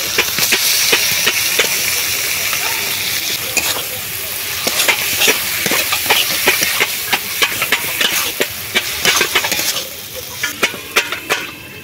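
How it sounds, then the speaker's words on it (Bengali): Red Sundarbans prawns hit a hot pan of oil with a little turmeric, giving a loud, steady sizzle and hiss broken by sharp clicks and scrapes of stirring throughout. "এবারে দিয়ে দেবো কেটে রাখা লাল চিংড়ি"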